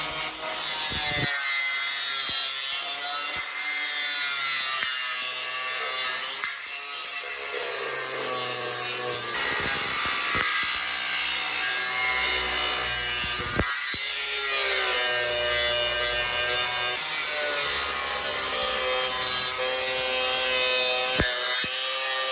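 An angle grinder cuts rusted wheel arch metal on a Vauxhall Nova with a loud, continuous high-pitched whine, its pitch and load shifting as the disc bites, with no talking.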